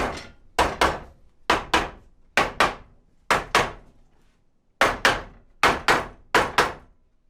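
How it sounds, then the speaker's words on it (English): Hammer taps seating wooden biscuit joints while assembling a DIY desktop, coming in quick pairs of sharp, close knocks with short pauses between groups, about a dozen strikes in all. "Got a lot of biscuits, so I gotta give a little tappy tappy."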